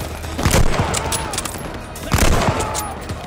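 Call of Duty: Vanguard combat fire: two loud bursts of rapid gunfire about a second and a half apart, under a continuous battle din, with no talk.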